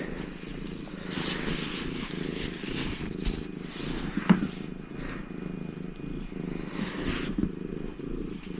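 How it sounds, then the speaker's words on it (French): A cat sitting on a table purrs steadily and close by, a soft continuous rhythmic rumble with a few faint taps and small noises mixed in. "vous avez le chat en guest star qui a décidé de venir squatter la table"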